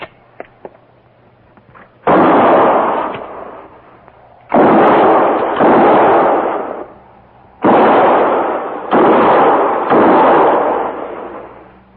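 Rifle gunfire in a radio drama, heard as five loud, booming bursts in uneven groups separated by short silences, with a few faint clicks before the first shot.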